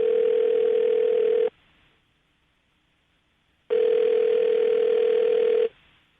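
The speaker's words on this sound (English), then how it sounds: "I'm going to dial the phone number right now" A steady telephone dial tone sounds loud and close in two long, even stretches separated by a silent gap, with no voices.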